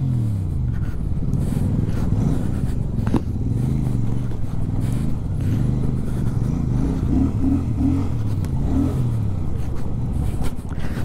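A motorbike rides along a rough forest trail, its engine droning close and loud with shifting revs and gear changes, scrapes and knocks from the uneven ground throughout.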